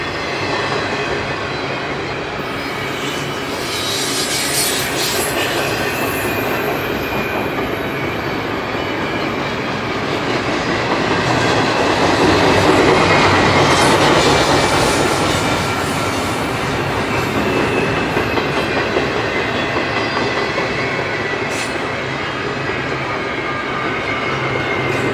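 A CSX freight train with double DPU locomotives rolls slowly past on an approach signal, its steady rumble and rail noise swelling toward the middle before easing back, sustained and fairly close with no talk.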